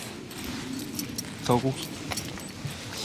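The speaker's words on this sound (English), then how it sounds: "Shouldn't have attached the mic to the lanyard because the keys are jingling" Keys on a lanyard jingle close to the mic in a short burst of metallic clinks mid-clip, with a quieter rattle after, over background noise and a few faint voices.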